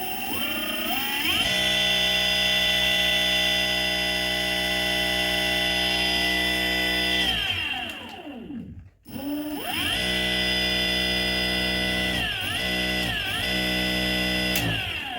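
An electric rickshaw motor runs in forward gear on a repaired smart controller, giving a loud, steady electric whine that winds down and cuts out briefly near the middle, then spins back up with a few dips in pitch.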